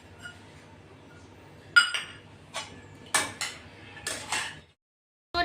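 Poha stirred with fresh coriander in a pan on low heat, a spoon scraping and clinking against the metal in a few separate knocks and scrapes, close and fairly quiet with no talking.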